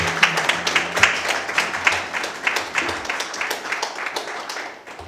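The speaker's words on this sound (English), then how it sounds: "Let's give him a round of applause, please." An audience claps in welcome for a guest at an evening event, loosely rhythmic with distinct individual claps over a low hum, moderately loud and fading near the end.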